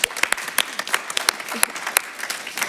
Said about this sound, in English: Quick round of applause for Chloe.